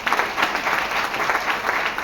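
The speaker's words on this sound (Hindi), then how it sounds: "एक जोरदार ताली।" A crowd at a DXN business camp gathering in Puri claps steadily, with a full, sustained round of applause that stays loud from start to finish.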